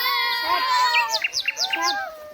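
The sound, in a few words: birds chirping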